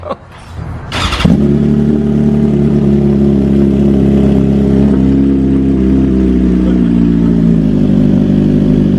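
A 2020 BMW S1000RR sport motorcycle with a full titanium exhaust fires up and settles into a loud, steady, throaty idle with a deep rumbling exhaust that holds close by to the end.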